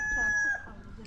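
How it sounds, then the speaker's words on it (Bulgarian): A hen at a zoo in Stara Zagora lets out a short, close clucking call that tapers off quickly, with faint background noise and some nearby voices. "Това не е петел. Е кошка."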